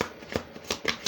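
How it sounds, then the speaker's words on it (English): A deck of tarot cards is shuffled by hand in quick riffling bursts, close and crisp, with brief pauses between the flurries. "Let me shuffle the cards a little bit."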